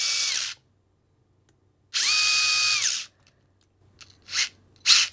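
A Furitek Micro Beast RC car motor spins in reverse in bursts, a loud high-pitched electric whine that rises and falls in pitch, one short burst and then a longer one, followed by two quick sharp revs with silence between.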